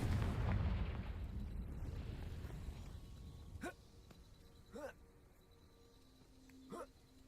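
A Confringo fire spell explodes in the Hogwarts Legacy video game with a loud, deep boom that rumbles and fades over a few seconds, followed by a few short, chirpy game sounds.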